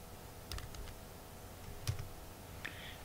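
Sparse, faint keystrokes on a computer keyboard while entering a search in the Microsoft Azure portal, a few isolated clicks over a quiet room background.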